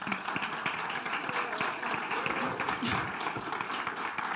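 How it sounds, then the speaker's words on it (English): The audience at the World Circular Economy Forum 2022 gives a round of applause for an incoming session leader. The clapping is steady and continuous at moderate loudness, with faint voices mixed in underneath. "Ladies and gentlemen, let's give her a big round of applause, please."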